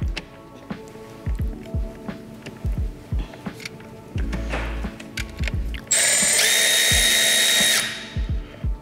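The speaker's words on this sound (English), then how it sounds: "first we're gonna take the socket and loosen up the air intake hose" A socket wrench loosening the air intake hose on a Toyota Tundra Hybrid, giving rapid ratcheting clicks in bursts, close and loud, followed by a sustained whirring power-tool burst near the end.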